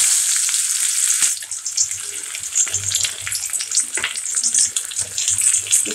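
Onions frying in hot soybean oil: a close, continuous bright sizzle and crackle that holds steady, with no speech.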